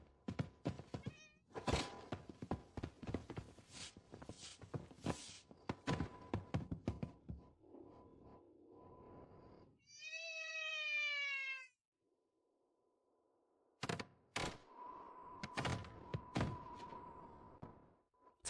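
A black cat gives one clear, drawn-out meow, set among scattered knocks, taps and thumps from an indoor room.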